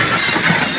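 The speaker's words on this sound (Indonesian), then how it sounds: "Pecah piring." A plate shatters in one loud, dense burst of breaking crockery that fills the whole moment, with no voices present.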